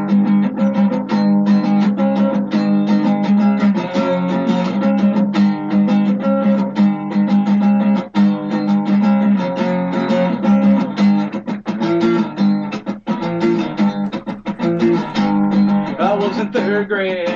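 A live acoustic band set performing a song, a dense, steady wash of strummed chords and sustained tones running continuously at full loudness.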